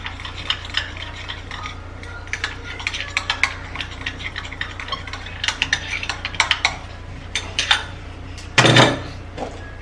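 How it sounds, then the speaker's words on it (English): A dish of baking soda and petroleum jelly being stirred, with repeated scraping and clinking strokes of a utensil in an irregular rhythm, close and moderately loud, ending in a brief louder scrape. "give it a fine stir"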